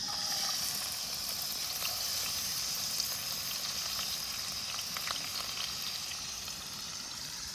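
Chopped onion frying in hot oil in a home kitchen pan, a steady dense sizzle with faint crackles that holds even and unbroken throughout, close and alone with no talking.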